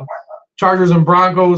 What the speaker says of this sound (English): I'm sorry that my dogs are barking.